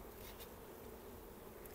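A dense mass of honey bees hums around a new hive, a continuous faint, even buzz with no voices.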